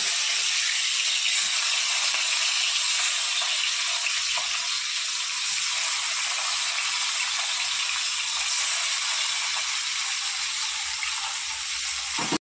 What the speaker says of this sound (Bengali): ওই তেলেই বাকি মাছগুলো ভেজে নেব।